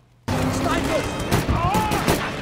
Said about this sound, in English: As they head to cut off the chain reaction of houses, they're suddenly ambushed by gunners.